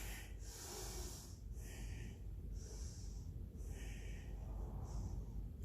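A person breathes deeply during a yoga pose, with several strong, airy inhales and exhales through the nose at an even pace, close and clear over a steady background hiss.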